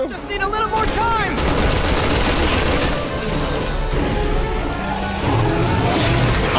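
Anti-aircraft guns in a video game keep up rapid, sustained bursts of fire, loud and dense, with crashes and booms mixed in. A voice talks over the fire.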